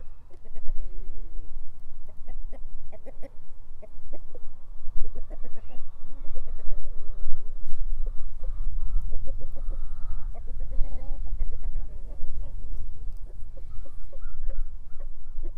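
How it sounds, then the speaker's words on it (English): A flock of chickens roaming a backyard chicken yard cluck and murmur continuously, several birds close by with overlapping clucks and short calls over low background rumble. "Chickens always love roaming around the yard."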